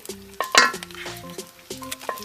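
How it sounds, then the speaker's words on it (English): Minced ginger and garlic hit hot oil in a pan, giving a soft sizzle with scattered clinks and scrapes of a utensil stirring against the metal, close up and without talk. "you add in the minced ginger, and the minced garlic"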